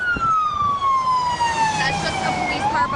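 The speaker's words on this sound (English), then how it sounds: "I hear an ambulance with its sirens on," A police siren wails loudly nearby, its pitch sweeping slowly down and then climbing again, with traffic noise underneath.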